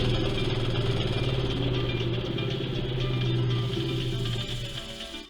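A homemade disk sander's electric motor runs steadily with a loud, constant hum and a faint mechanical clatter, then quickly winds down near the end.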